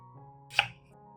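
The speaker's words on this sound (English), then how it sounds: "cut the onion in half and then chop it into small pieces" A knife makes one sharp, quiet chop through an onion being cut into small pieces, a single crisp stroke over a soft steady hum.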